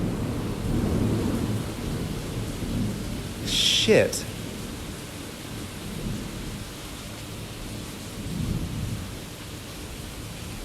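A sharp, loud crack of thunder from lightning striking close by breaks through steady rain, followed by a brief exclamation from a person nearby.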